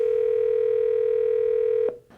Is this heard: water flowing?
no